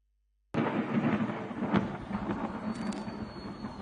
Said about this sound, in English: We thank God for the rains.